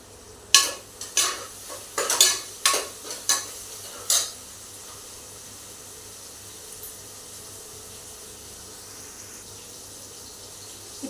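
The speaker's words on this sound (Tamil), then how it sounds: "இப்போ தக்காளி வெங்காயம் வணங்கிட்டு இருக்குதுங்க." Tomato and onion frying in a pan while being stirred, with several sharp scraping stir strokes in quick succession over the first few seconds, then a quieter steady background sizzle, close and with no talking.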